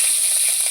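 Curry leaves hit hot oil that already holds cumin seeds while crab fry is being cooked, giving a brief, loud, steady sizzle and hiss with no talking.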